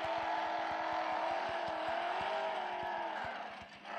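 Car motor in the Freeway Fury video game drones steadily and loudly with a fast rhythmic pulsing, its pitch wavering slightly before dipping near the end.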